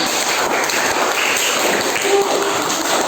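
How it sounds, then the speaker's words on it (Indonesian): A classroom of students applauds a group, a dense, continuous patter of many hands clapping at once that stays loud and even throughout. "Beri tepuk tangan kepada kelompok 1"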